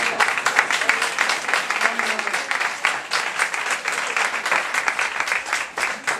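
A church congregation applauds and cheers at a service, with dense, sustained clapping close by and mixed with voices calling out throughout.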